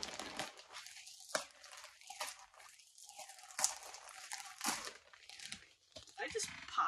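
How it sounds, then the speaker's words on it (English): A mail package holding a Halloween hoodie is torn open by hand, with repeated crinkling, crunching rips of plastic wrapping in bursts close up, interleaved with a person talking excitedly. "So we're gonna rip this bad boy open."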